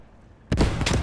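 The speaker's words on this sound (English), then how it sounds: "Grenades, throwing grenades." A sudden grenade blast in the World War II shooter Post Scriptum, a loud booming explosion after a quiet half second, followed by a second rumbling burst and lingering debris noise.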